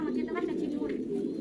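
French pigeons coo on a pigeon farm, low soft throaty coos close by and continuous, with people talking over them.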